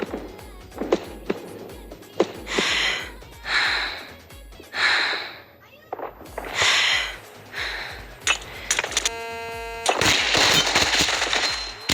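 Rapid bursts of video game gunfire in a one-on-one battle, loud machine-gun rattles and single shots repeating in quick clusters with brief pauses, and a dense sustained burst near the end.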